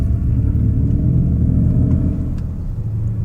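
A Mercedes EQS 500 electric car plays its Vivid Flux synthetic drive sound, a close, steady low humming rumble that eases slightly toward the end, with no speech.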